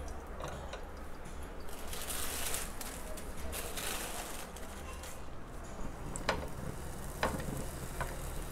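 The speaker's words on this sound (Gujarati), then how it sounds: "તો આવી રીતે બધા પરોઠાને તળતા જઈશું." Sprouted moong parathas fry on a pan with a steady, close sizzle, broken by a few brief scrapes and taps.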